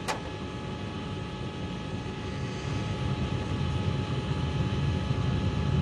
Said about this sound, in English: We try to analyze the sound of the engine.